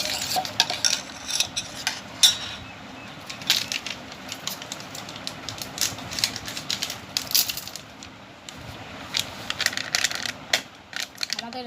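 A spoon stirs cow's milk in a bowl for homemade yogurt, producing irregular clinks and scraping swirls against the container that continue in uneven bursts from start to finish.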